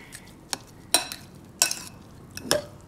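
A spoon scrapes and stirs eggplant with paprika in a cooking pan, giving four or five quiet, brief strokes spaced about half a second apart against a soft background.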